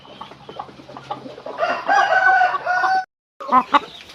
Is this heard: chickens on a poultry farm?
yes